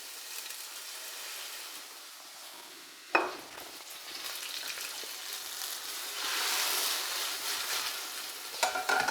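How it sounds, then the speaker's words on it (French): Cider vinegar hits a hot frying pan of onions with a sudden loud hiss around three seconds in, then a steady sizzle that swells later as the pan is scraped, with a few sharp utensil knocks near the end. "en déglaçant, on va ramasser les sucres au fond de la poêle"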